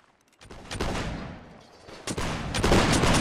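Musket volley fire in the video game Mount and Blade Warband Napoleonic Wars, line infantry battle, as a dense roaring crackle of many shots in overlapping waves, loud and sustained, with no talk.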